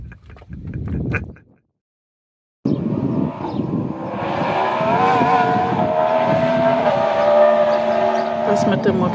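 A motorcycle engine drones loudly and steadily nearby on a river at the Algarve border, rising in pitch and holding on, with a brief burst of voices before it.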